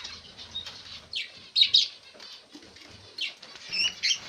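Budgerigars in a breeding cage give scattered high chirps and brief bursts of wing flapping, close and fairly loud, arriving in several quick irregular clusters.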